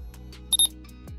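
A few quick electronic beeps from a small kitchen timer being set, close by, with soft clicks around them.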